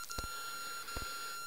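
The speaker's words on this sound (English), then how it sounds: "Oh, beeping gets louder." A steady high-pitched electronic beep tone from the game Clock Tower: The First Fear on WonderSwan holds continuously, with a couple of soft thumps underneath.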